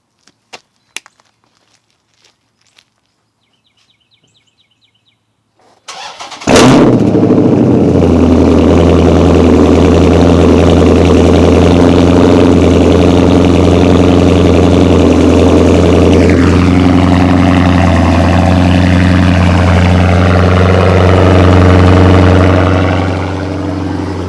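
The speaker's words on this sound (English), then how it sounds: "Cold start 2013 SRT8 Charger." A 2013 Dodge Charger SRT8 V8 cold-starts after faint clicks and silence: a sudden loud crank and roar, then a deep, rumbling high idle that holds steady and loud, easing slightly as it settles.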